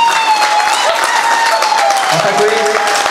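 An audience at an achievers' meeting claps loudly and steadily throughout, a dense unbroken round of applause filling the hall.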